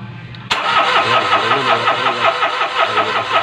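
A Mitsubishi Mirage G4 that has been struggling to start is cranked, then a car engine abruptly kicks in and keeps chugging in a rapid, rhythmic pulse, close by, with brief talk just before.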